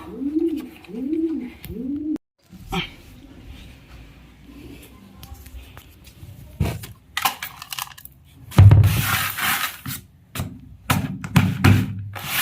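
Pigeons coo in a short rounded series at the start, followed by rustling, scraping and handling noises with brief bursts of clatter from a pigeon trap in a cabin.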